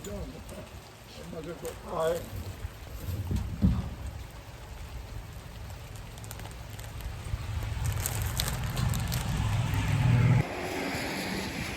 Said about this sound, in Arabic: مطر عندنا النهارده مغرقه الدنيا